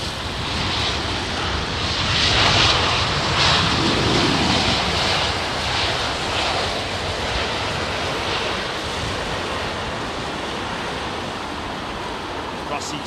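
British Airways Boeing 787-10 jet airliner at windy London Heathrow, a loud sustained engine roar blended with gusting wind noise, swelling early and then holding steady; a voice talks faintly underneath.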